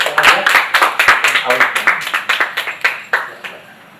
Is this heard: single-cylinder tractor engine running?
no